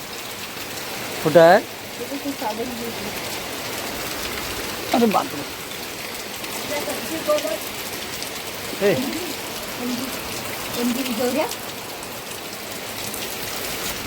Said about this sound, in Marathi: अशा तऱ्हेने पहिला पाऊस आलेला आहे